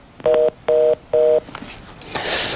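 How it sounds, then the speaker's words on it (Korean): On a radio show, a telephone call is connected with three short, even dialing beeps in a row, followed by a brief burst of line noise and a rising hiss. "다음 전화 연결해 보도록 하겠습니다"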